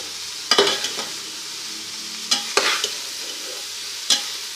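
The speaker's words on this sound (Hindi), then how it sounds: "मसाले को गोभी में बहुत अच्छा मिक्स करेंगे" Spiced cabbage being stirred in a pan, a few distinct scraping strokes of the spoon spaced over a soft, steady background sizzle, close and fairly loud with no talking.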